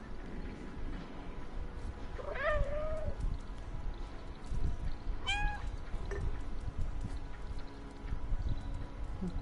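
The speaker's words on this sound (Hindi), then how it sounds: "पता लगना चाहिए बिल्लो आई थी" A stray cat meows twice, a few seconds apart, at moderate volume over steady background noise. No one speaks.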